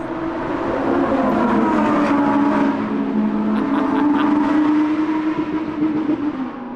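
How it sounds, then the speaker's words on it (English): A Lamborghini Huracán Performante's naturally aspirated engine drones and revs continuously at high pitch on a race track, loud, steady and sustained, with no talking over it. "you can't beat a naturally aspirated engine for some proper passion"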